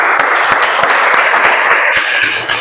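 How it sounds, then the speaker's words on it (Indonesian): A classroom of students claps together in brisk, steady applause, close and lively, lasting a couple of seconds with no talking over it. "Bagus, tepuk tangan."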